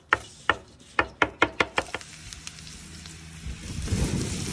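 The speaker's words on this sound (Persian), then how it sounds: "قارچ رو هنوز دلخواه خورد میکنیم و بعد تفتش میکنیم." A knife knocks sharply on a cutting board about eight times in quick succession, chopping mushrooms, then a soft sizzle rises as the chopping stops.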